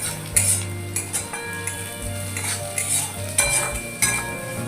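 Onions stirred and frying in hot oil in a wok, with a steady sizzle broken by repeated scraping strokes of a spatula against the pan, close and fairly loud.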